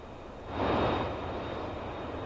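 A Challenger 300 jet's engines in the X-Plane flight simulator make a steady, close broadband drone that swells briefly and then settles into an even hum, with no talking.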